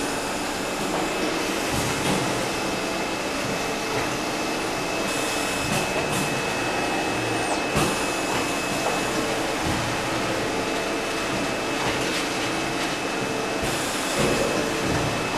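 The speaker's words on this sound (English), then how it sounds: "Then the suction table will give strong sticking power to the" CNC machine suction table vacuum running, a loud steady droning whoosh with a thin high tone and occasional mechanical knocks, continuous throughout without speech.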